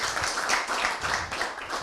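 An audience claps at the presentation of the AS Roma futsal team, steady and moderately quiet for just under two seconds.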